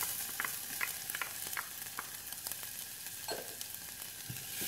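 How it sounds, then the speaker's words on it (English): Garlic being stirred and frying in a pan, a quiet steady sizzle with scattered scraping stir sounds and light clicks, faint and close with no talking. "Stir the garlic so it's golden."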